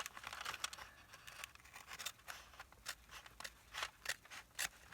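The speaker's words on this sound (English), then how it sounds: "I think we'll turn it over and cut it. And I have my Fisker scissors." Fiskars scissors snip through paper in a quick run of sharp, crisp cuts with short gaps, close and fairly quiet, with no voices.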